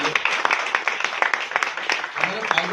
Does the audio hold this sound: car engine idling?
no